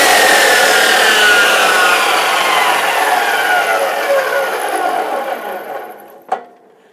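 A chop saw starts with a trigger squeeze and cuts loudly and steadily, then its whine fades as the blade winds down and stops with a sharp clack near the end.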